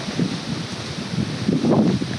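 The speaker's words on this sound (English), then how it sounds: "It's real windy." Gusty wind buffets the microphone with low rumbling swells that rise and fall, growing stronger toward the end.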